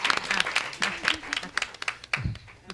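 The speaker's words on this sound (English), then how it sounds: "now would be a kind of good time to clap" Scattered applause from attendees at a school board of education meeting, a thin run of individual claps with uneven rhythm, fairly quiet, with a voice briefly audible beneath it.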